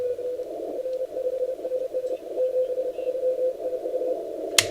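A German amateur radio station heard on the 15 meter band at sunrise, a steady tone keyed on and off in short Morse-like bursts over a hiss of band noise, faint and distant, ending in a brief crackle.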